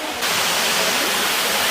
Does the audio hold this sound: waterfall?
yes